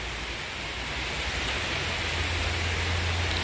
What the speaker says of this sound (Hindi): बारिश हुआ लगी